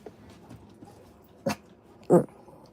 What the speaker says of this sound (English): I need to finish this recording, but I can't with the dogs barking